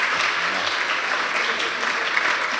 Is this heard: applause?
yes